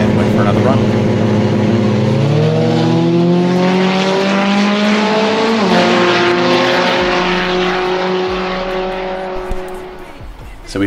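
A Ford ED XR6 accelerates hard down a drag strip, its engine climbing steadily in pitch through the gears with a brief dip at a shift, then fading with distance. The sound is loud and continuous.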